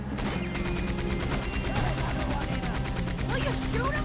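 Gunfire in the Western video game Red Dead Redemption 2, with repeated shots crackling over a dense, steady game soundscape of music and effects while voices talk throughout.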